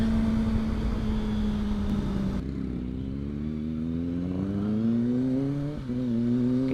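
A vehicle accelerating on a road: a close, steady engine hum whose pitch climbs smoothly through the gears, with a brief dip near the end.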